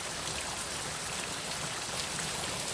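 Steady rain pattering down on dry ground, an even wash of drops heard alone and close.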